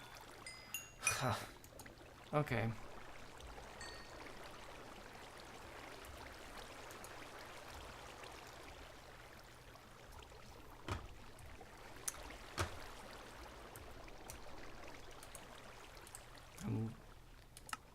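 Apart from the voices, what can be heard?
flowing water in the video game Minecraft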